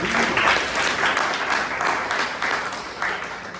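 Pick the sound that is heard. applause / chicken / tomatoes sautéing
applause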